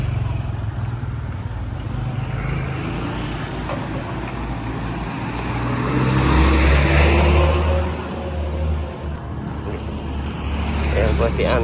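Trucks passing on a roadside, engine rumble and road noise swelling as one goes by near the middle, then easing off, with a person talking over the traffic.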